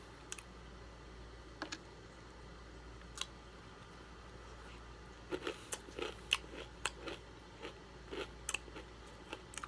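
Crunchy corn taco bitten and chewed close up, with a few sharp crunches early and a denser run of crisp bites in the second half over a quiet room background.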